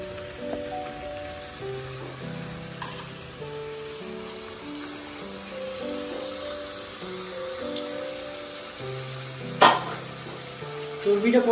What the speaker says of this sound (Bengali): আর আরেকদিকে চলছে মাংসের জন্য পেঁয়াজ ভাজা।